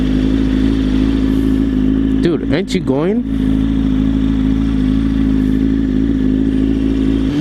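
A motorcycle engine hums steadily at cruising speed throughout, with a brief burst of speech and some road noise partway through.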